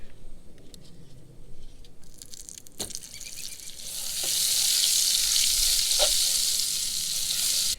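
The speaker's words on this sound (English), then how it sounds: "we've got bacon grease, and we're gonna add a little bit of butter" Fish sizzles loudly in a pan of bacon grease and butter, the frying starting quieter and swelling into a steady, dense crackle from about four seconds on, with a few sharp pops and spatters, no voices.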